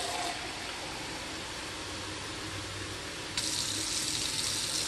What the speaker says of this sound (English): And then I'm just going to refill the container.